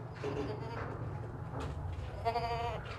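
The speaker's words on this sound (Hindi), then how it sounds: "ऊंचा लंबा माशाल्लाह खूबसूरत बकरा है, वज़नी।" A tall, heavy, healthy sacrificial goat for Eid bleats over steady background noise and nearby talk, with a few short cries scattered through the stretch and the clearest one near the end.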